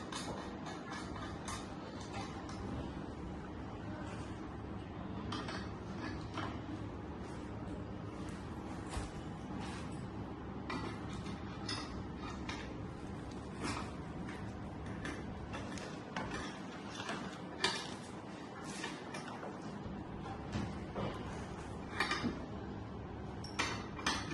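Nuts are tightened on the wheel of a kids' Tigger tricycle, producing repeated close metallic clicks, ratcheting and light clinks in an irregular rhythm, with no speech.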